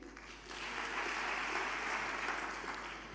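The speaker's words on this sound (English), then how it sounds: "let's hold the applause to the end if we can" Audience applause at a postgraduate symposium fills the room as a steady broadband patter, swelling after a brief start and holding evenly at moderate loudness for about three seconds.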